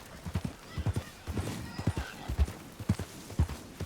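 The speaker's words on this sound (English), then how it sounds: "You can hear my horse coming a half a mile away." A horse in Red Dead Redemption 2 trots with a steady clip-clop of hooves and lets out a neigh partway through, close and clear over quiet ambient sound.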